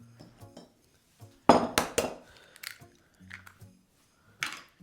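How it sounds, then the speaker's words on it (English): Eggs cracked into a dish while baking a Christmas dessert: a few sharp taps and clinks against the bowl, a soft wet drop, then quieter knocks, close and clear with no talking. "we're going to crack them into our dish first."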